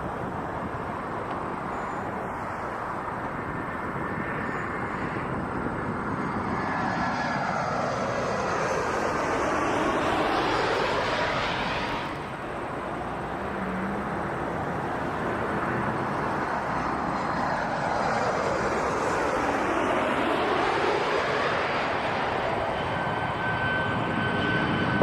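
A Rouge airliner lands on runway 24 left at Toronto Pearson, its engine roar building and sweeping past twice with a rising then falling whine. The steady, loud jet noise fills the whole stretch.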